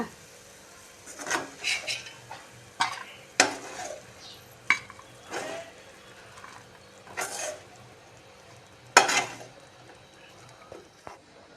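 Turkey berries (sundakai) saute in a pan for chutney, with a soft background fry under repeated spoon-on-pan scrapes and clinks, irregular and close, no talking.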